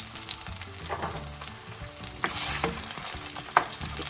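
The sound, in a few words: potatoes frying in cooking oil for shrimp curry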